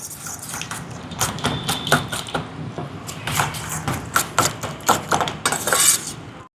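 Puttu flour being mixed with salt in a bowl, with a spoon or utensil scraping and knocking against the bowl in irregular clinks and taps, close and fairly loud, with no talking.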